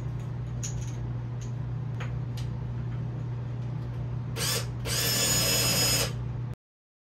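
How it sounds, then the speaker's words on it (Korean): Power drill driving screws to fix mirror brackets during a bathroom mirror replacement, with two short whirring bursts near the end, the second longer and louder, over a steady low hum. "피스에 하나씩만 드릴로 고정해 주면 됩니다"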